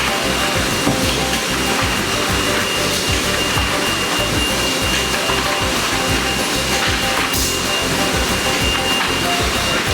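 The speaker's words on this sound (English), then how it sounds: "This belt then feeds the grading machine." An egg grading machine and its feed conveyor belt run continuously, giving a loud, even mechanical whir and hiss with rapid rattling, steady for the whole stretch and with no talking.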